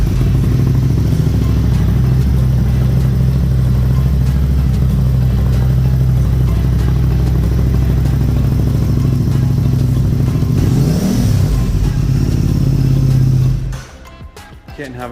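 An Aprilia Tuono 660 motorcycle engine runs indoors, a loud close steady idle with a brief rev near the end before it shuts off, with some talk over it.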